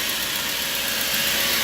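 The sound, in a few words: radiator cooling fan running on idling 2.0 petrol engine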